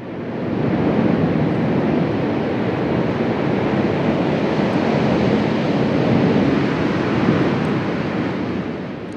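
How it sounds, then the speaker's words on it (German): Pressurised steam roaring out of vents in the crater of Ol Doinyo Lengai volcano, a loud, continuous broadband rush like a jet engine, steady throughout with no voices. "Der Dampf entweicht mit so viel Druck, dass er Lärm wie ein startender Düsenjet verursacht."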